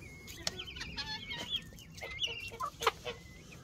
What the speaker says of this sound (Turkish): Nerede bu beçler? Nerede bu yavrular?